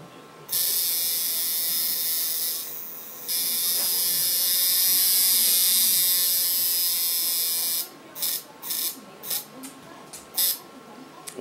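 A tattoo machine, just adjusted, runs with a loud, steady high-pitched electric buzz for several seconds, then cuts in and out in short stuttering bursts.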